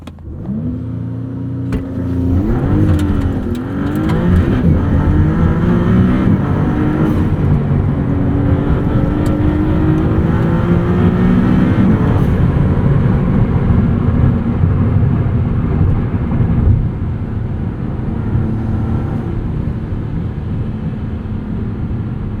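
A 2023 Maserati MC20 roars off the line under launch control, its engine revving hard through rising, stepping gear pulls for about ten seconds before settling into a steady loud drone heard from inside the cabin.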